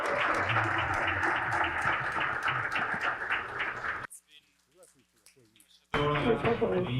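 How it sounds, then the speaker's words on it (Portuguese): An assembly audience in São Paulo applauds its host city, a dense run of clapping that cuts off abruptly, leaving a near-silent gap with faint sounds, before loud sound resumes. "Por favor, uma salva de palmas para São Paulo."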